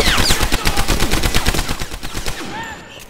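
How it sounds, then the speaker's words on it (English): Rapid automatic gunfire from the World War II shooter Medal of Honor: Allied Assault, a dense run of loud close shots for about two and a half seconds, then a short lull with a faint whistling tone. "so I just opened fire"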